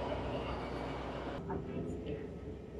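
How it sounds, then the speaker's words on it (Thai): Steady rumble and hiss inside a moving Amtrak passenger train, a constant low broadband drone throughout with a faint brief tonal chirp midway. "ตอนนี้เราอยู่ในรถไฟ Amtrak แล้วนะคะ"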